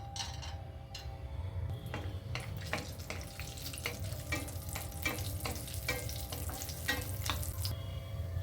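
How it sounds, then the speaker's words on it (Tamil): Cashew nuts fry in a quarter cup of hot ghee in a pan, giving a steady close sizzle broken by frequent sharp clicks and scrapes of stirring throughout. "இந்த நெய்யில் முந்திரி பருப்பை வறுத்து எடுத்துக்கலாம்"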